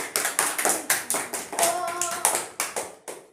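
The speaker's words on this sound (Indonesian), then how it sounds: "Tepuk tangan untuk Mas Safa" Audience clapping for a small child at an indoor gathering: a series of distinct bursts of hand claps, roughly evenly spaced, fairly close and crisp, with a brief tonal sound in the middle.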